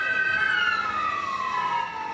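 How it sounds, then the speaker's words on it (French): Ambulance and fire truck sirens wail continuously near a hospital emergency department, their pitch sliding slowly downward, loud and steady over low road rumble. "les camions d'ambulance et de pompiers défilent sans cesse pour déposer toujours plus de blessés"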